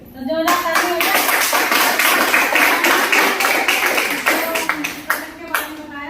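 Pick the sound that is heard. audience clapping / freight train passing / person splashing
audience clapping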